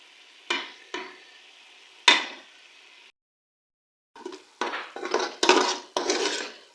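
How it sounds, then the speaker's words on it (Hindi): Metal spoon scraping and clanking against a pan while spices for a chickpea curry are stirred and fried, with sharp separate strikes, a short pause, then a busier run of scraping with faint sizzling. "अब हम मसालों की अच्छी तरह से भुनाई करेंगे उस वक्त तक जब तक कि मसाला ऑयल ना छोड़ दे।"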